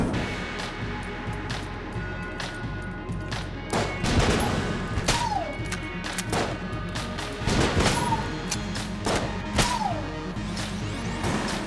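A regular shotgun firing in the Enter the Gungeon video game: heavy blasts repeating at uneven intervals over a steady game soundtrack, with occasional whooshing effects between shots.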